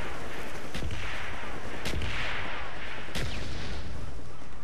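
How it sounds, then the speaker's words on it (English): Friendly mortar strike in Call of Duty: Black Ops, with three loud, widely spaced booming impacts over a dense roar of continuous battlefield noise. "Friendly mortars inbound."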